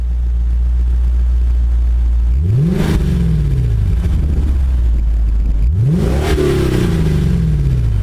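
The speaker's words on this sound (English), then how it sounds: "This, we have a 5-liter V8 that makes 416 horsepower and 371 foot-pound of torque" A Lexus IS-F with its 5-liter V8 revs twice, each time climbing from a deep idle rumble to a loud roar before falling back, close up over a constant engine drone, no talking.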